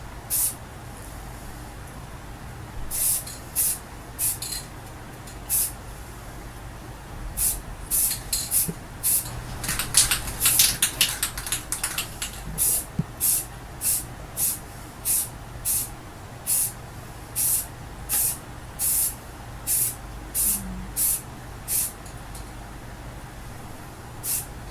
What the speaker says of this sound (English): Hold the can about 10 inches to a foot away, just where you're getting a light mist.